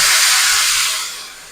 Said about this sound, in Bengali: এবার আমি তেলের মধ্যে মশলার পেস্টটা দিয়ে দেবো